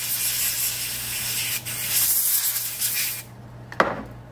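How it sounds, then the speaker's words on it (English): A close, steady hiss of aerosol cleaner sprayed on a laptop circuit board runs for about three seconds, then stops, followed by a faint click and quiet. "I'll spray it real quick."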